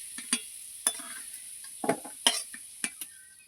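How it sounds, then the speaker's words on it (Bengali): Potatoes fry in a pan while a utensil stirs and scrapes them, giving a low sizzle beneath about eight distinct metallic clinks and scrapes at irregular intervals, close and fairly clear. "আলুগুলো আমি ভালো করে লাল লাল করে ভেজে নেব"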